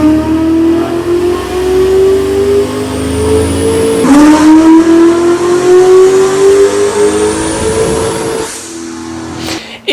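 An LS V8 with a backwards intake pulls hard on a dyno, loud and close, its tone climbing steadily. It shifts and climbs again, then cuts off abruptly.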